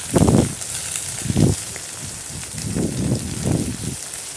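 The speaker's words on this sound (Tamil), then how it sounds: "இப்போ நான் வந்து நான் இந்த எடுத்து வச்சுருக்கிற மல்லித்தழை புதினா கருவேப்பிலை மூணையும் வந்து நான் இதை நான் வதக்கிக்கிறேன்" Coriander leaves, mint and curry leaves sauté in a hot pan for a Tamil thokku, giving a close crackling sizzle that rises in several bursts and fades between them, heard alone.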